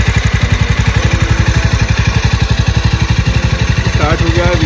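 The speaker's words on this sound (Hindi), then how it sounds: "now I will start my bike" A Jawa 42 motorcycle idles in neutral, its single engine thumping in a fast, even rhythm, loud and close throughout, with a brief higher chirp near the end.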